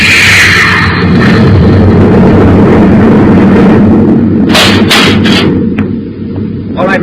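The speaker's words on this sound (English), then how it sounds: "Kick on the tail rockets." Spaceship tail rockets fire in an old-time radio sound effect: a loud, continuous roaring rumble that lasts several seconds, with crackling bursts near the end.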